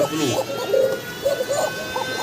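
Male pigeons cooing: soft, repeated throaty coos, close and moderately loud over a faint background hum.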